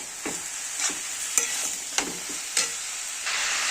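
Cauliflower stems with chopped tomato and spices being stir-fried in a pan, a steady bright sizzle broken by several sharp spatula scrapes and stirs at an uneven rhythm, close and alone with no voices.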